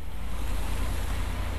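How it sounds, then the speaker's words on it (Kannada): Waterfalls beside a mountain road toward the Nepal–China border give a steady, loud rushing roar, continuous and wind-like throughout, with no voices. "ನೋಡಿ, ಇಲ್ಲೊಂದು ಜಲಪಾತ, ಅಲ್ಲೊಂದು ಜಲಪಾತ."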